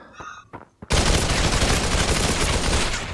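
Video game gunfire: after a brief electronic beeping and a couple of soft taps, a sudden heavy burst of rapid automatic fire erupts and continues loud and dense to the end.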